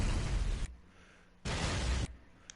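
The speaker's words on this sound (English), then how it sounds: "Distant explosion." Distant explosion sound effect from GTA V's Rockstar Editor, two loud broadband booming blasts separated by a short quiet gap, each a dense rumbling burst that cuts off abruptly.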